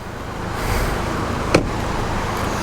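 New 2017 Volkswagen GTI S and SE hatchbacks idle quietly at a dealership lot, a soft low hum under faint traffic-like ambience with a single short click partway through.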